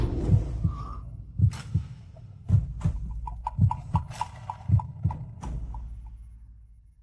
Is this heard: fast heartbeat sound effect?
yes